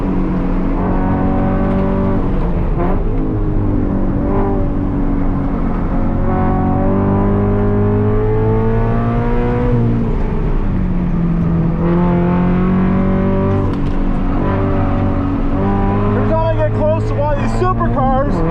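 Scion FR-S and Toyota GT86 race cars lapping Le Mans at night, flat-four engines droning loudly and continuously with rising and falling revs as several cars pass close in succession, people talking over the engine noise.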